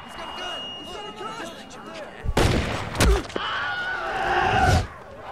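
Gunfire in Saints Row 2: heavy bursts of shots crack out after a stretch of shouting voices, with clattering impacts and a sustained volley.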